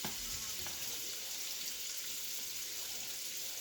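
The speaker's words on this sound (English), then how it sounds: "We're just going to wait for our butter to melt" Butter melts in a pan with a soft, steady sizzle and faint crackle, quiet and continuous, with no one talking.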